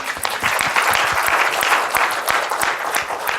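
Audience at an emerging-trends-in-Africa panel breaks into steady applause, a dense wash of many hands clapping throughout, fairly loud and continuous with no voices over it.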